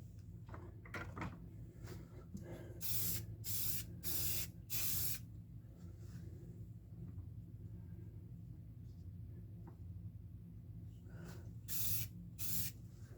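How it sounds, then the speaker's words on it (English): A paint spray gun loaded with primer for a 1969 Camaro fires several short, sharp hissing bursts up close, first in a cluster and then again after a quiet pause, over a low background rumble. "I'm going to do a little spray, make sure there's no clogs as usual."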